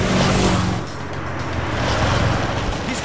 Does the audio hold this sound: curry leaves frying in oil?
no